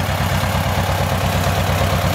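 Tractor engine running while the machine backs up during forest work hauling poles, a loud, steady low throbbing rumble with a regular pulsing beat, close and continuous.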